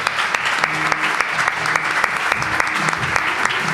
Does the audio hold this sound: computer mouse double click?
no